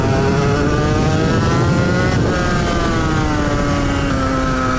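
A Suzuki RGV 250 R two-stroke motorcycle engine revs hard and continuously, its loud buzzing note climbing then easing back, close and steady for several seconds with no talk.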